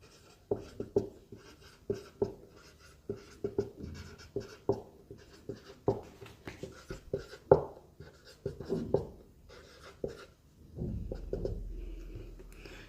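Chalk or pen writing on a board during a math lesson, a close run of quick, irregular tapping and scratching strokes continuing for several seconds.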